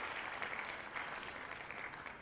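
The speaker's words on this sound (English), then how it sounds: "let's give him a little bit of a round of applause" A crowd at a Yankees–Mets baseball game gives a round of applause, a dense, distant wash of clapping and cheering that holds steady throughout.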